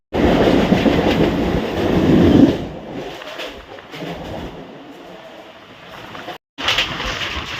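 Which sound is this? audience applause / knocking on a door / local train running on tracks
local train running on tracks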